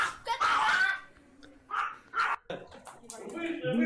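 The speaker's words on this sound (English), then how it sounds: "No, two dogs." Two dogs bark in short bursts, mixed with people talking and laughing over them.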